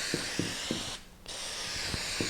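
A can of solvent-based spray for laminate countertop work lets out a steady close hiss, broken by one short pause. Faint rattles tick underneath in an even rhythm.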